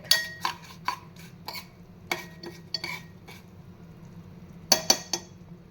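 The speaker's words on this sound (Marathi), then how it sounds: "तीळ तुपामध्ये फुटत आहेत." Sesame seeds crackle and pop in hot ghee, sparse sharp snaps scattered unevenly over a low steady hiss, with a tight cluster of louder pops near the end.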